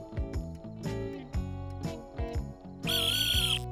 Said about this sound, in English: this beautiful dog whistle that only dogs can hear